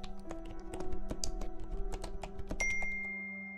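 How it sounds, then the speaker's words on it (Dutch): Fingers type on a computer keyboard in quick irregular taps, close and crisp, with a soft tonal ambient music bed underneath and no talking. "In deze wereld bewegen je vingers gracieus over het toetsenbord."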